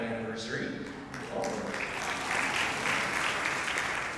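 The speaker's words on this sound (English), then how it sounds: "Thank you for applauding." A concert audience applauds after a family singing group's introduction, a steady mass of clapping that swells and holds for several seconds, loud and close in the room.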